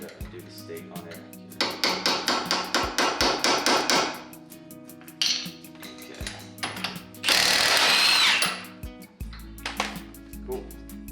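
Hammer on a Subaru Impreza 2.5RS GC8 axle nut, loud rapid metallic strikes in bursts, then a harsh grinding stretch and scattered clanks; no talking.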